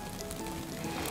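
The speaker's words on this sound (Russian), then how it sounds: "теперь обжариваем. Он шипит." A sandwich fries in a pan with a steady, close crackling sizzle that fills the short moment without voices.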